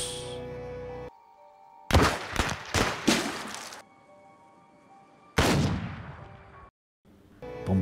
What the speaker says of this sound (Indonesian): Bonnie dan Clyde menembak dua orang polisi hingga tewas.